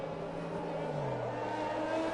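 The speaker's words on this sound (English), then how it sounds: "The Aston Martin safety car will take off." Aston Martin safety car in the F1 2021 video game at Singapore, its engine droning steadily with a slowly falling pitch as it pulls away, sustained and moderately loud throughout.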